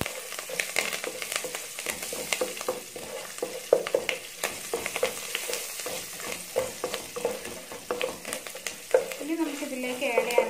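Green chilies and curry leaves sauté in an oiled pan for a Maharashtrian poha upma, a steady crackling sizzle broken by repeated scraping strokes of a spoon, close and continuous with no talking.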